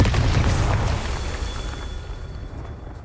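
A Confringo explosive spell goes off in Hogwarts Legacy as a single loud, deep boom that rolls out and fades over a few seconds, with no talking.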